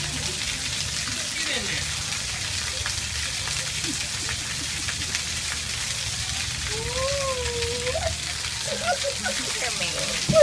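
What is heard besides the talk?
rain falling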